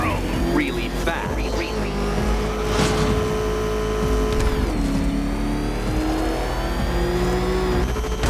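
The Batmobile in the Batman Arkham Knight video game roars and revs continuously, its engine pitch rising and falling throughout, with tire noise and voices mixed in.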